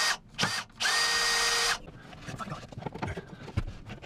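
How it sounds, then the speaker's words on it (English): Power drill boring holes through a boat interior to route shower sump pump plumbing: two short bursts then a loud sustained whine lasting about a second, followed by quieter handling clatter and knocks. "I need to drill some holes down through here to route the rest of the plumbing."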